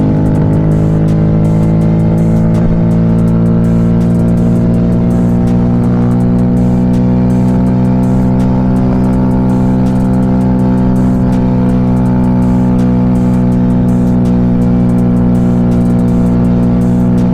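A 2025 Honda Grom SP motorcycle with a Stage 1 upgrade runs at speed near 57 mph, its engine a loud, sustained drone with slowly rising pitch under heavy wind rush.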